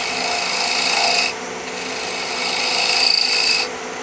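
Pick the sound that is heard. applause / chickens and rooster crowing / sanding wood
sanding wood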